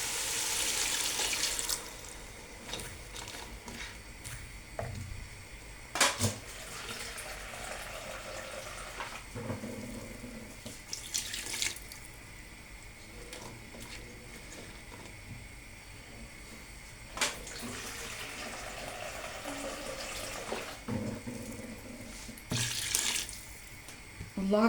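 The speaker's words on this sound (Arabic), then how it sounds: "نحط بقى حبه ميه." Water runs from a tap into a pot of economical seafood soup made with crabs, peppers and tomatoes, a steady splashing stream with brief pauses and clinks of kitchen handling, close by.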